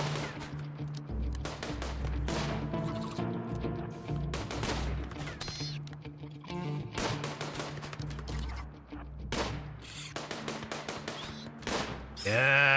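Rifle and other gunfire in the colony-sim video game RimWorld, rapid repeated shots and bursts layered over a continuous loud game soundtrack and battle noise, with no pauses.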